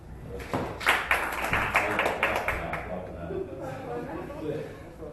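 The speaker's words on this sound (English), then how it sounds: "Clap for him." An audience claps for a participant at a youth entrepreneurship event, a burst of scattered hand claps that builds and then fades over a few seconds, with voices murmuring underneath.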